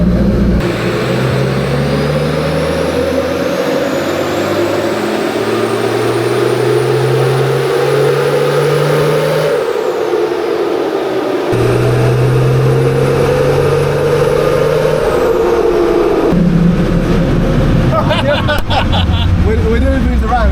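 A Nissan Patrol TD42 diesel engine with an F66 turbo runs loud on a dyno. Its drone climbs in pitch, dips, then rises again, with a high turbo whine above it, and background voices can be heard.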